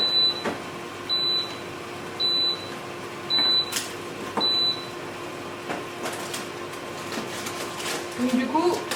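A Cookeo Extra-Crisp multicooker beeps five times in an even, steady rhythm, high-pitched and fairly close, then quiet room noise with faint clatter follows.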